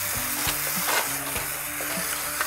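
Cauliflower palkova mixture sizzles in a pan as it is stirred, with a steady close frying hiss and soft scraping strokes and no talking.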